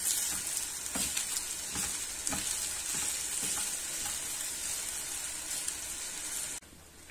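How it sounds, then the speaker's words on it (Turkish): Rice toasts in a hot pan before water goes in for pilaf, a continuous bright sizzle with faint stirring scrapes, close and fairly quiet, cutting off near the end. "pilavım biraz kavrulsun"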